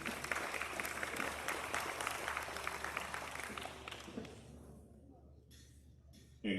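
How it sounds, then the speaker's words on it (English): Audience applause at a youth livestock show, a dense round of clapping from a crowd in a show arena that holds steady for several seconds, then fades out to near quiet. "Give those kids a good round of applause as we get into the next drive."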